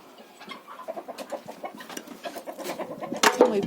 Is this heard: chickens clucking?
yes